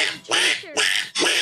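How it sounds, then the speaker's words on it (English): Three loud, closely spaced duck quacks from a video game set in The Walking Dead world, each a harsh nasal burst, standing alone without talk over them. "We found duck."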